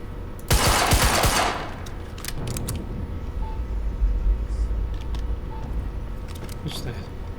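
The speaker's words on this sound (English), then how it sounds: "It's a machine gun." Machine gun fire in the video game Quantum Break: a loud burst of rapid gunfire near the start, followed by a steady rumbling game soundscape with faint distant shots and clanks.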